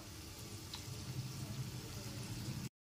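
Pieces of paneer fry lightly in hot oil, giving a faint, steady sizzle throughout that stops abruptly at the end.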